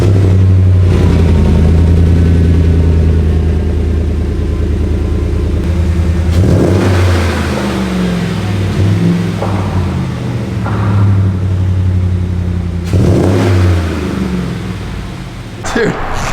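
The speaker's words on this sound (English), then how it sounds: "let's see what she sounds like. First fire up. AFE intake throttle body spacer. And whatever MagnaFlow exhaust Chris has." A car engine fires up for the first time after fitting an aFe intake, throttle body spacer and MagnaFlow exhaust, settling into a loud, close idle with a few sharp revs rising and falling.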